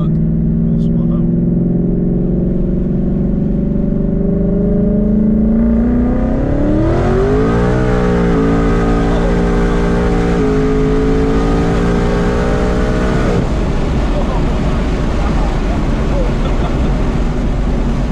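A 1000 hp twin-turbo Ford Mustang launching hard; a loud, close engine roar climbs steadily in pitch, steps up through a shift and keeps building into a sustained high-revving blast, with voices mixed in.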